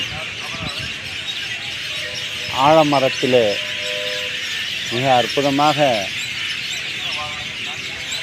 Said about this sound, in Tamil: வெளியில் இருக்கக்கூடிய பறவைகளுக்கெல்லாம் ஒரு அழைப்பு விடுக்கிறது போல இந்த ஒலி சப்தம் அமைந்திருக்கிறது